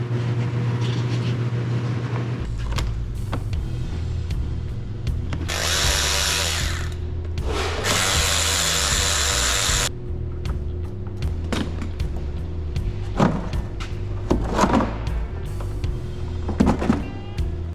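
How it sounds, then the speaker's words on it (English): A power drill whirs in two sustained bursts, loud and close, drilling mounting holes for rock lights on a Hummer H2, followed by scattered clicks and clatter of tools being handled. "you're gonna drill 3 holes, 2 for the bolts, and then 1 for the wire"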